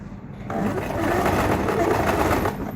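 A sewing machine stitches fabric while a bag is sewn, starting with a faint hum and then running in a steady, close mechanical whir throughout.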